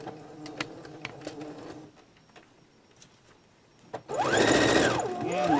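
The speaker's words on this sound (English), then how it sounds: "Now we're going to do the same 1/8 of an inch stitching at the bottom." A sewing machine stitching the nose flaps of a face mask, with scattered clicks and taps of fabric handling before a sudden close, loud burst of fast motor-driven stitching that rises and falls in speed.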